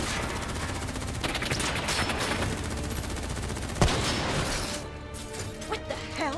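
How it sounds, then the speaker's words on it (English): A sustained barrage of automatic gunfire in the Black Ops 3 campaign, loud and close, with overlapping bursts, a sharp crack near the four-second mark, then fading into scattered rattles and mechanical clatter. "Who's shooting?"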